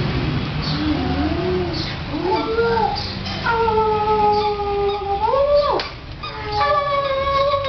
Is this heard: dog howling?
yes